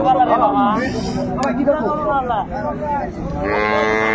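Dairy cows and calves moo loudly and close at a cattle market in Raniganj, Dinajpur, several long lowing calls one after another, with faint background chatter.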